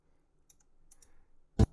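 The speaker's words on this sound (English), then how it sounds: "We're going to click with our mouse and drag." Computer mouse clicking and dragging, heard as a few tiny faint ticks followed by one crisp, close click near the end of a quiet stretch.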